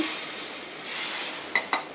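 Tempering poured into simmering moong dal rasam in a pot, a steady sizzle and bubbling followed by three sharp metallic clinks of a spoon against the vessel near the end.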